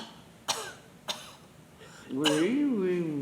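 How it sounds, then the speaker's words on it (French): A patient coughs at a doctor's examination: two short sharp coughs near the start, then a voice begins speaking at the end. "Toussez."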